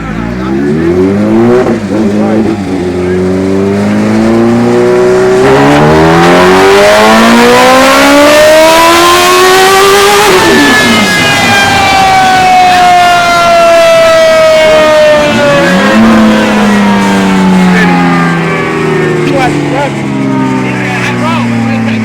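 A Kawasaki Ninja H2 motorcycle, about 250 hp, revs hard on a dyno, its engine pitch climbing steeply through the gears, dropping, then winding up again, very loud and close, with voices beneath.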